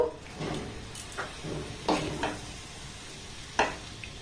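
A spoon stirs rice flour and grated coconut batter with water in a bowl for fried coconut pitha, making soft wet scrapes and a few light knocks against the bowl, close and unhurried, with a faint steady hiss behind it.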